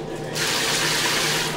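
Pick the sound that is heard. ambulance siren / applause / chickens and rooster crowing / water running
water running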